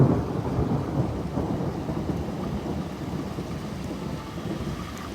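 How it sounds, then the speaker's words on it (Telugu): Thunder rumbling during heavy live snowfall at Klosters, a continuous low, fairly steady roll heard close and alone with no voices. "మీరు గమనించినట్లయితే ఉరిమింది ఇప్పుడు చూసారు కదా"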